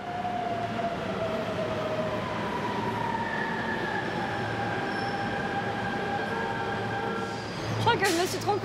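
A Shanghai metro train rumbles steadily with rising and falling tonal whines from its motors and a brief wheel squeal near the end, while people talk over it.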